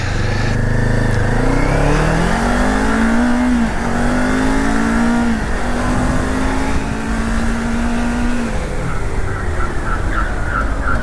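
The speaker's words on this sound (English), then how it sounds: "rear brakes pulsing, pulsing, pulsing, pulsing" Kawasaki Ninja 500 motorcycle engine note rising and falling through repeated revs and shifts, loud and close under heavy wind noise, as the rider slows using the ABS rear brake only; no voices are heard.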